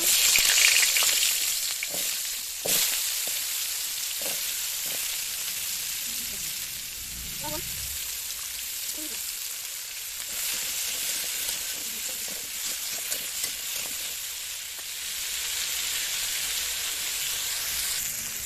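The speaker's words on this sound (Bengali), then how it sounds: "এবার আলু আর গাজর একসাথে ভেজে নিব।" Potato and carrot pieces fry together in hot oil with a continuous close sizzle and hiss, occasional pops and spoon clinks as they are tossed, the bubbling easing slightly then swelling again.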